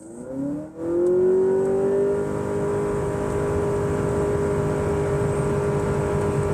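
A Honda Accord or Toyota Camry in sport mode launched hard from a brake-torque start, its engine a loud, close, sustained drone that climbs steadily in pitch while accelerating.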